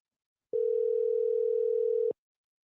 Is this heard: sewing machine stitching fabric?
no